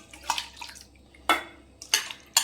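Chicken hearts and gizzards being washed in a metal pot, with scattered clinks and splashy knocks of the pot and water, four distinct bursts spaced irregularly, close and fairly quiet.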